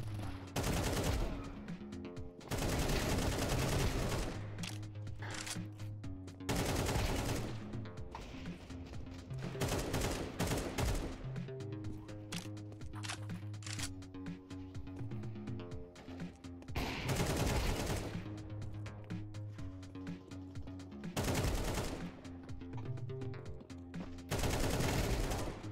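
Gunfire in the video game Counter-Strike 2 crackles in repeated bursts and rapid volleys across a long stretch, with loud shots punctuating a busy, continuous game soundscape.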